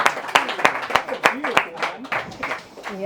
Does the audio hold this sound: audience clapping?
yes